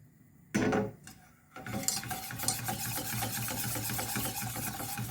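A whisk scrapes and stirs steadily through cheese sauce in a pan on the hob, a continuous close scratching rhythm after a couple of brief clatters at the start.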